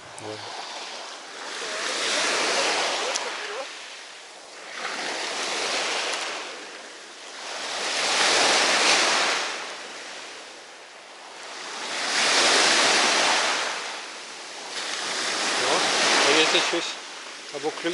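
Black Sea waves wash onto the shore at Odesa in slow, repeated surges, each swelling into a broad hiss and then receding, steady and fairly close.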